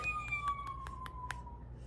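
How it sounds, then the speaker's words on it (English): A toy fire truck siren from a children's sound book wails with a steady electronic tone that slowly falls in pitch, broken by a series of short pulses, fairly quiet and alone. "That's a siren."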